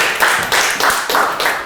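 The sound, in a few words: audience clapping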